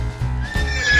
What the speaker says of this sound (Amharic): ፈረስ